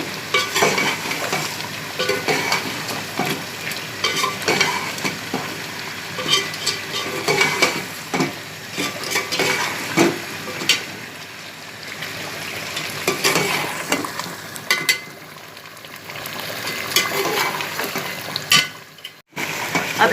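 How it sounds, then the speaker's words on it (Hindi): Korma masala frying in hot ghee in a pan as it is stirred, with steady sizzling and scraping strokes running throughout at close range, no talk. "जब घी छोड़ रहा मैं इसके अंदर ये मसाले ऐड कर दूंगी।"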